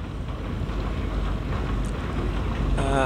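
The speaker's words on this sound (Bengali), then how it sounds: "এটা তো জাহাজ না, একটা বালি টানা বোর্ড আর কি" A sand-carrying boat passes on the river at Sadarghat, a low, steady engine rumble mixed with wind buffeting the microphone, continuous and fairly close.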